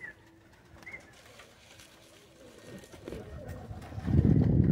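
Pigeons at a pigeon show, soft cooing and calls near at first, then a louder muffled rumble builds up toward the end, with a voice present.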